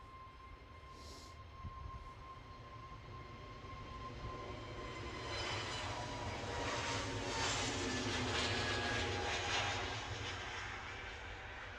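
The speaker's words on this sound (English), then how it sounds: "EasyJet off to London Gatwick" An easyJet airliner departing Edinburgh Airport for London Gatwick, its engine roar heard from a distance and swelling to a broad peak before easing slightly.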